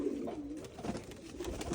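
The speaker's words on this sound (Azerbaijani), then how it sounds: "Kənddən part-part quşlar gedir." Pigeons coo softly in a quiet outdoor spot in a village, low rounded calls repeating over faint background noise for a couple of seconds.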